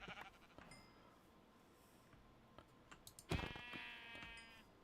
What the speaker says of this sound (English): More sheeps.